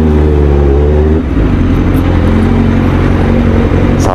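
Loud, close road traffic builds near a busy market, with a motorcycle engine idling and revving, changing pitch partway through, and other vehicles passing behind it.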